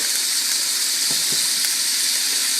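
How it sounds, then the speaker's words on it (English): Thin-sliced steak frying in a pan over high heat, a steady, loud broadband sizzle and hiss with a couple of faint pops, no talking. "you want it to be on a pretty high heat because you really want the steak to cook pretty quickly"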